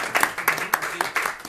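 Audience clapping at an event held as part of a campaign against violence toward women, a short burst of scattered hand claps from a nearby crowd, mixed with some background voices.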